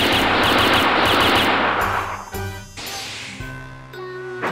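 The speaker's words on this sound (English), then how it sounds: "Who goes around shooting at someone before finding out who they are?" Loud, rapid bursts of video game gunfire from Disgaea 5 rattle off in dense volleys, then break into scattered single shots and ringing, chiming tones as the barrage fades out.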